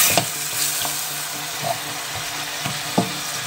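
Onions frying in hot oil in a pan for a caramelized-onion rice couscous, giving a steady close-up hiss of sizzling with a few sharp pops and spatters scattered through, no voices.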